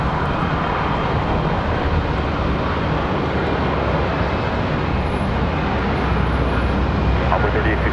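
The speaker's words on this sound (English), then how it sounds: "There it is, Spirit Airlines." A Spirit Airlines airliner at Charlotte Douglas International Airport gives a continuous, broad jet engine roar that stays steady throughout, with someone speaking over the noise.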